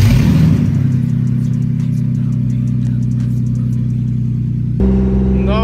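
A drift car's engine rumbles loudly at close range with a steady running tone, then shifts abruptly in pitch and intensity near the end as it is revved.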